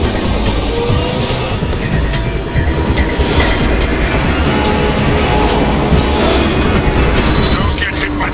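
A train rumbles past close by in the video game Transformers: War for Cybertron, with steady clattering wheels and a continuous roar, loud throughout, with faint voices underneath.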